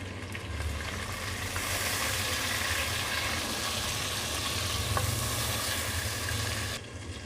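Onions and tomatoes for moong masoor tarka daal sizzle steadily in a pan, a dense continuous frying hiss with faint stirring scrapes, cutting off just before the end.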